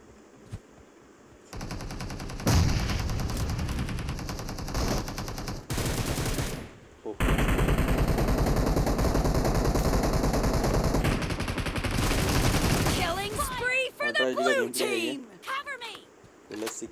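Rapid bursts of automatic gunfire from the mobile game BGMI (Battlegrounds Mobile India) crackle in long dense stretches, with a player talking over them and speech taking over near the end.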